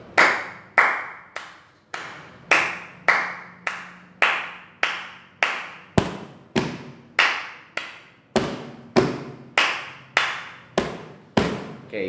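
Sharp hand claps ring out in a steady, repeating rhythmic pattern, each clap crisp and close with a short decay, continuing throughout without voices.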